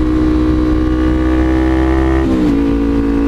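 Motorcycle fitted with a new aftermarket exhaust holds a steady loud idle-like drone, then blips briefly in a quick rev near the end before settling back to a constant rumble, heard alone without talk.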